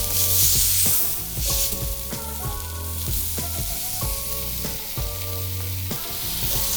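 Steak searing in a hot pan for a buttered Thai 'Crying Tiger' steak dinner, a steady loud sizzle and fry running throughout, with no talking.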